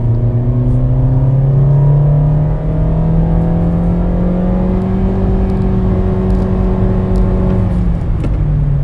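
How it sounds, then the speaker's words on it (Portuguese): A Toyota car engine revs steadily as it accelerates, its droning pitch climbing gradually through several simulated gear stages, loud and continuous with no talking. "vamos dar uma aceleradinha aqui para você sentir o ronco do motor"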